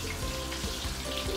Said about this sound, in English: We will let it deep fry like this for at least about 3 to 4 minutes.